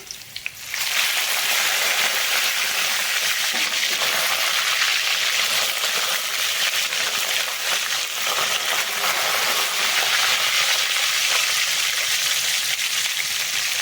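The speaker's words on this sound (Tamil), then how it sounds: "ஸோ இப்போ பார்த்திங்கன்னா கருவேப்பிலையும் போட்டுக்கலாம்." Curry leaves and garlic sizzle in a frying pan for raw banana fry, a loud, steady, crackling hiss that bursts in within the first second and carries on unbroken to the end, with no talking.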